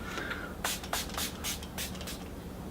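A series of short bursts of makeup setting spray, about six quick hisses in a loose rhythm, close up with no talking.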